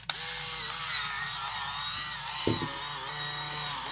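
Steady motorized whir of a film camera rewinding its roll, a continuous mechanical hum running without pause, close and fairly loud, with a brief click partway through.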